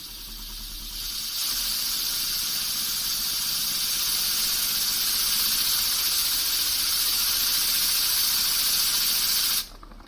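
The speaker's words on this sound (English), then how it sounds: "Now the air compressor is running out of air." A 3D-printed air engine runs on compressed air from a compressor, giving a loud, steady hiss that swells after a second, holds for several seconds, then cuts off abruptly near the end.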